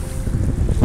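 Strong wind roars over the Oder river while boating near the bank, a loud, close, brief gust buffeting the microphone with a low rushing rumble.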